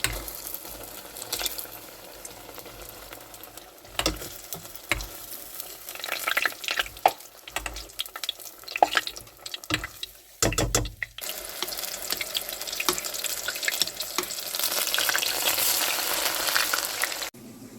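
Squash flowers frying as tempura in hot oil give a steady, close sizzle and crackle, broken by bursts of stirring and clattering before the hissing swells again.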